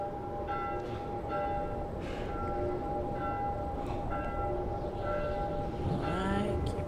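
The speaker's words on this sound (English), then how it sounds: "That bell's gonna give me a bigger migraine." A bell tolls repeatedly at a steady, slow rhythm in The Last of Us, each strike ringing out with a lingering metallic hum over a dense, noisy game ambience, fairly distant and moderately quiet.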